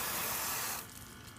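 Water sprays and rinses over car paint coated with ICE paste wax and Shine Lock sealant. A loud, broad hiss runs for under a second, then drops to a softer trickle.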